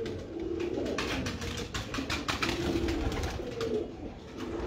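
Pigeons of a single bloodline coo softly in a loft, several low, rolling calls repeating against a faint background hum. No one speaks.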